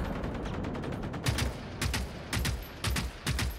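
Gunfire in the open-world game Generation Zero, several rapid bursts of automatic shots, loud and close, coming in four or five distinct clusters after a rumbling start.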